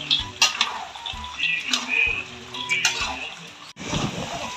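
Peanuts still in their skins rattle and scrape as they are stirred in a pan, with irregular metallic clinks of a utensil against the pan over a faint sizzle.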